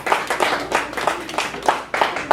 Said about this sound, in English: give our ancestors and Brother Curtis a round of applause